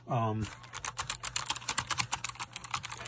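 Typing on a Logitech G815 low-profile mechanical keyboard with clicky proprietary switches: brisk, closely miked keystrokes in an uneven rapid patter, after a short burst of voice at the start.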